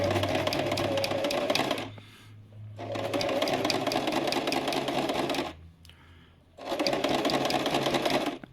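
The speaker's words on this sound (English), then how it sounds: "I'm just sewing the tunnel along this side here." A sewing machine stitches a tunnel along a spangenhelm lining in three loud, close bursts of rapid mechanical whirring, separated by short pauses with a low hum.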